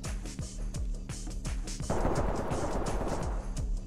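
Rapid automatic gunfire in the SWAT tactical shooter game Ready Or Not rattles in quick evenly spaced bursts, then gives way to a dense, noisy stretch of continued firing.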